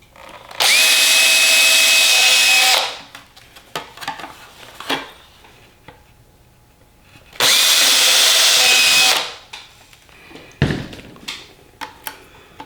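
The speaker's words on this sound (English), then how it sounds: "I should have 2 marks that I can start pre-drilling with a small drill." A small power drill pre-drills marked holes during electric snowmobile assembly, giving two loud, steady whining bursts of about two seconds each, separated by light clatter and handling noise.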